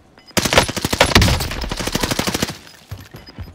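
Rapid automatic gunfire in the video game Warzone bursts in loud and close, a dense string of sharp shots lasting about two seconds before trailing off into a few scattered pops.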